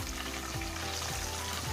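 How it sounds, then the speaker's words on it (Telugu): Masala hitting hot oil in a pan makes a steady, soft broadband sizzle with faint low scraping pulses, continuous for the whole stretch with no talking. "ఇదిగోండి, మసాలా వేసుకోవాలి."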